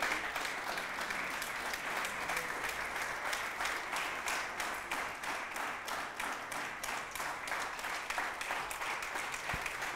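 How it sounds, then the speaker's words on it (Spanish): Steady applause from a church audience during a sermon fills the whole stretch, dense overlapping claps with a faint rhythmic pulse, moderately loud and even throughout. "Aplauda si quiere y si no también."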